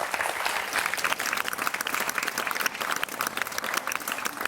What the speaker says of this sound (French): victoire de Thierry et d'Hervé qu'on va applaudir très fort